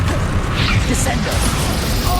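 Descendo spell impact in the video game Hogwarts Legacy, a loud rumbling crash with scattered clattering debris-like bursts layered over a continuous low roar.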